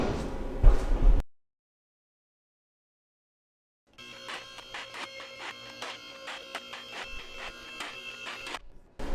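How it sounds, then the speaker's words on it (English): Rhythmic metallic clicking and ratcheting from a jack raising a BMW E39 sedan with about 270k miles, running steadily for several seconds after a brief burst of handling noise and a silent gap. "But first, let's go ahead and jack it up."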